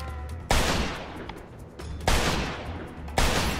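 Three sharp bursts of gunfire in the video game Mafia II, each striking suddenly and then trailing off, evenly spaced, close and loud with no talk.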